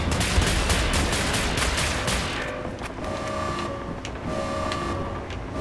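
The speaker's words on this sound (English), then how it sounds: "Who's shooting me?" Rapid bursts of gunfire in the shooter Wolfenstein: The New Order crackle loudly at first, then thin out as a repeating alarm-like electronic tone pulses beneath the shots.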